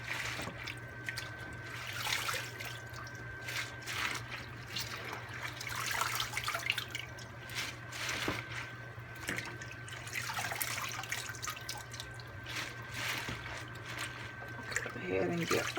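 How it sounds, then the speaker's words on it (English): Cold water from a tap trickles and splashes into a kitchen sink where greens are being rinsed for southern-style turkey wings. The flow runs steadily and fairly quietly, with a low hum and occasional clinks beneath it. "It looks like I'm gonna have to run a little bit more cold water in there."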